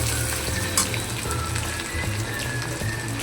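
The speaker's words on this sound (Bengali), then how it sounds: "এবার দিয়ে দেবো কুচনো পেঁয়াজ, আর দিয়ে দেবো চেরা কাঁচা লঙ্কা দিয়ে ভালোভাবে ভেজে নেব" Chopped onion and slit green chilies frying in a pan, a steady close sizzle and crackle with light spattering pops running throughout, no voices.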